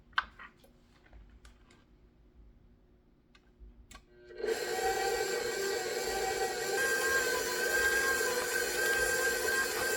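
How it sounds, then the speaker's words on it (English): An electric mixer whirs steadily through powdered sugar frosting after a few seconds of quiet clicks and handling noises, running loud and continuous to the end. "Some more powdered sugar, and then I'm going to lift it back up and continue mixing."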